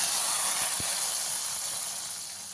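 Tempering of hot oil and spices poured into chakwat (bathua greens) bhaji in a pan, giving a steady, close, bright sizzle and hiss that fades slightly toward the end.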